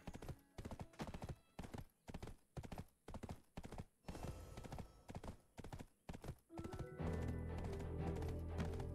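Rhythmic horse hoofbeats in the video game Black Desert clip-clop in a steady trot, sharp and close, then give way to a sustained tonal hum near the end.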